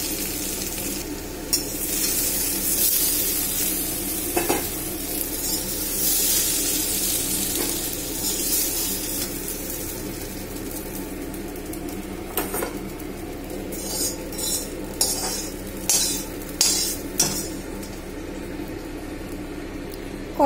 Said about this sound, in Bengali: আলুগুলো একটু ভাজতে টাইম দেব। আলুগুলো ভাজা হয়ে গেছে,